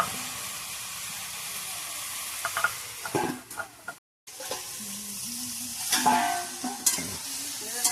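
Chopped figs are sautéed in a pan the way meat is cooked, with a constant close sizzle and frying hiss, repeated spatula scrapes and clicks against the pan, and a brief full dropout partway through.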